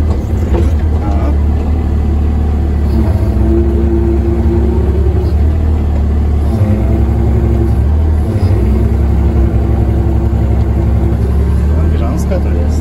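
Excavator engine rumbling steadily as the machine starts to drive on soggy ground near a house, loud and continuous low drone close up, with someone speaking Polish briefly over it.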